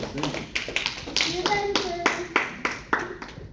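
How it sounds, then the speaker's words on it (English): A few people clap in a loose, uneven rhythm while voices chatter and call out over the claps. "So give yourself a round of applause."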